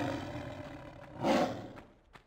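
A lion in Tomb Raider I Remastered lets out a single deep, rumbling roar that swells and fades over low background game ambience, moderately close and alone without talk.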